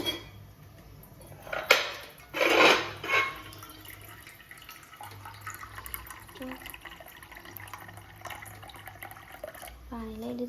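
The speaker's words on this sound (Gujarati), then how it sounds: "તપેલીમાં શાક સુધારી તેમાં આપણે પાણી લઈ લઈશું" Water poured into a cooking pot holding chopped vegetables in a home kitchen, with a few loud splashing gushes early on, then quieter trickling and a voice talking over it.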